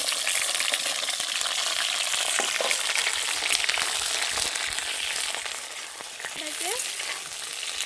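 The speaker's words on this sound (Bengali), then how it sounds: "তার উপরে দিয়ে দেব কেটে রাখা বেগুন।" Cut eggplant frying in hot oil with nigella seeds, a loud dense crackling sizzle that runs throughout with occasional stirring clicks, close up, while a voice briefly speaks.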